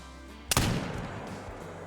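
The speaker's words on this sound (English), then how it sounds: "So we're going to go for a shot here." A muzzleloader rifle fires at a mule deer in the hunting game Call of the Wild: one sharp, loud shot lands mid-clip and fades into a long rolling echo over a quiet outdoor background.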